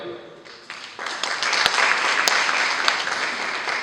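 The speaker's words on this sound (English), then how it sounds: "can you clap for all the girls who are here?" University freshers orientation audience clapping for the girls present, applause swelling from scattered claps into a dense, sustained round in a large hall, with a few sharper claps standing out.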